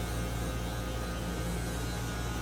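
An electric hair clipper fitted with a number 4 guard, the largest comb, hums with a steady, even buzz on its own throughout, with no talk over it.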